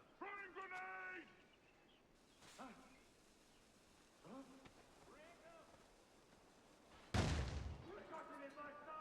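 A single loud grenade blast in Assassin's Creed IV: Black Flag bursts out near the end, sharp and close. Talk and faint game noise come before it, and a voice continues underneath afterward.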